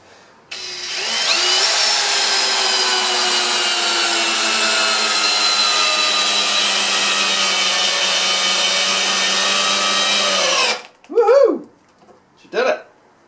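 A ToolPRO 18V hammer drill in low gear drives a 125 mm 14-gauge batten screw into timber with no pilot hole, a loud steady whine lasting about ten seconds, then stopping before a few brief voice sounds.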